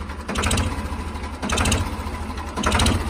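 A Ford car engine idles unevenly, its low rumble swelling and fading in a slow repeating cycle about every second and a half, close by and with no one speaking.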